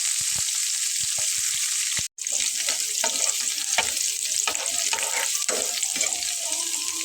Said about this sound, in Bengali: তার ভেতরে রসুনগুলো দিয়ে খুব ভালো করে একটু নেড়ে চেড়ে ভেজে নেব।